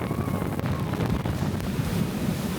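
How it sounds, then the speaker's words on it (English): A loud, steady roar of rushing water and wind buffeting the microphone fills the scene at the big splash finale of Disney World's Tiana's Bayou Adventure flume ride, with no talk. "yes, you still get the big splash at the end."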